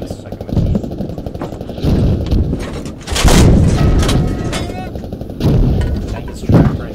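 Tank gunfire in the military game Squad from a Canadian Leopard tank: heavy booming blasts and bursts of rapid fire crack out several times, loud and close, separated by short lulls of rumbling noise.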